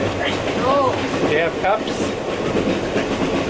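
A Trans-Siberian passenger train on the Beijing to Moscow route rolls along the rails with a steady, loud rumble and faint rhythmic clatter, while people talk briefly over the noise inside the carriage.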